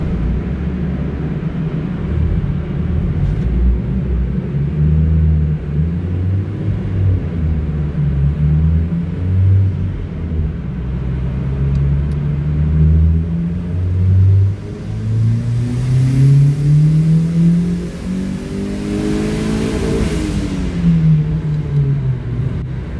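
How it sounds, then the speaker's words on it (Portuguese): Small car with a 1.0 turbo engine revving hard on a test run, a loud continuous roar sweeping up through the gears in rising pitch, peaking near the end with a whining top note before easing off. "vamos para o primeiro teste do carro"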